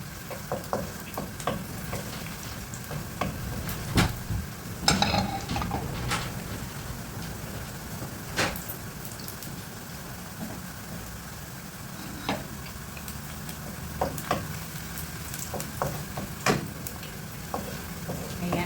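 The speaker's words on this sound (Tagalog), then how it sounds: "igigisa muna natin yung bawang" Garlic sautéing in a pan for a Bicol Express chicken dish, a low ongoing sizzle broken by frequent clinks and scrapes of a stirring utensil, close by and with no talking.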